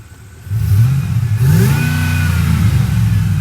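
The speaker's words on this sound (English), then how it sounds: "over the whine, you can really hear that nice exhaust in the headers" A 2007 Ford F-150 FX4 pickup engine starts low, then revs up with a deep throaty exhaust rumble through the headers and a faint power-steering whine above it, loud and close, holding at high revs.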